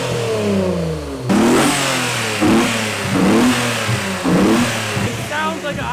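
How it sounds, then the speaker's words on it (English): Nissan R34 GTR engine revving up in repeated sharp blips, rising and falling pitch over a low idle, loud and close. "I don't know what it is about this car. It sounds so cool."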